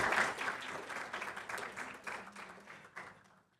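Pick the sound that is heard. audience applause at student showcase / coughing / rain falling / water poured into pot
audience applause at student showcase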